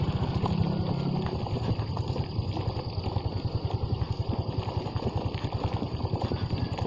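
A motorcycle ridden slowly over a damaged, potholed road chugs with a steady low pulsing engine beat, close and continuous, without talk.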